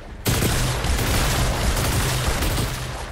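Dense, sustained gunfire crackles in Fortnite, with a shotgun among the weapons, a continuous loud barrage of overlapping shots and booms with no pause throughout.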